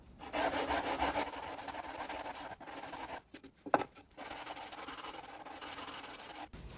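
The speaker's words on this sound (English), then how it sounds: "So I'll just hand sand it and keep test fitting until it's nice and snug." Hand sanding a wooden board by hand, a rapid back-and-forth rasping scrub in steady strokes, close and fairly quiet, broken by a brief pause and a light knock before the rubbing resumes.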